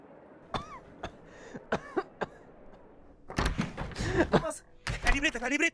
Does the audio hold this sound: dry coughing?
yes